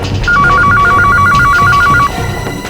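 A telephone rings with a loud, steady electronic warble for about two seconds, close by, with no voices over it.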